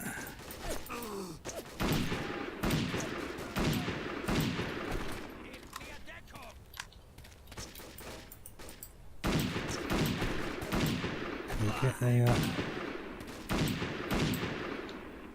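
Repeated bursts of gunfire in the first-person shooter Ubersoldier 2, rapid volleys firing at enemies in quick succession with a short lull midway, loud and close with clanking weapon mechanics in between.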